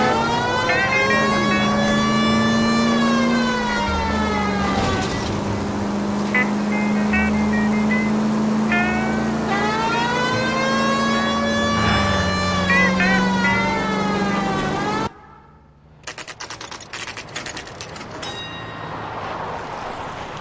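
Police car siren in the video game LA Noire, a loud wailing siren that rises and falls steadily for about fifteen seconds over engine rumble, then cuts out, leaving quieter game sounds.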